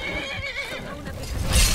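Horse neighing in the video game Skyrim, a loud whinny with wavering harmonic pitch that rises and falls over about two seconds, followed by a brief thud near the end.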